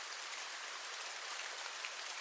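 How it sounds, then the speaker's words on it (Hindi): Heavy rain falling outside in an animated village horror story set in a forest at night, a steady, dense hiss of downpour with no break and no voices. "बाहर बहुत तेज बारिश हो रही है"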